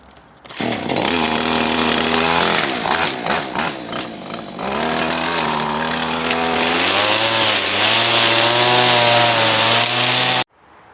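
A petrol brush cutter runs loud and close, its engine revving up and down unevenly before settling into a steady high drone, then cutting off abruptly.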